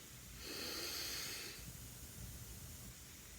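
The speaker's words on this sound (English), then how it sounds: "So we're going to inhale deep." One long, deep breath drawn in through the nose, a soft airy hiss that swells and fades over about a second, followed by quiet room tone.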